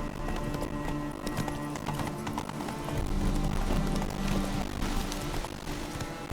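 A horse gallops steadily through the open world of The Witcher 3, its hooves pounding in a fast, continuous rhythm under a constant wash of ambient game sound.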